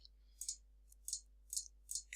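Soft, faint mouse clicks sound in small irregular pairs and bursts while a user works in a mesh head editor, set over a steady low electrical hum.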